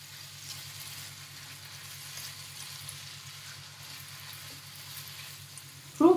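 Tomato paste frying in a pan for spaghetti, a soft steady sizzle with a low hum underneath, ending in a brief clatter.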